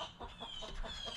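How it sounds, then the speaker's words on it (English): A pet chicken clucks in a steady run of short, rhythmic calls, close and fairly loud against a constant background hiss, with no talking over it. "My chicken's about to get loud."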